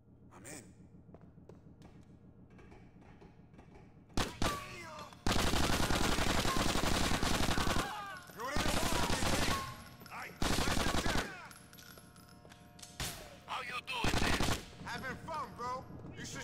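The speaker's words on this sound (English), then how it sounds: "When I start shooting at the bodyguards who decide that they want to chase me." Repeated bursts of automatic gunfire from shooting at bodyguards in GTA 4: The Ballad of Gay Tony, loud blocks of rapid shots separated by short pauses, with quieter game sounds and breathy gasps between.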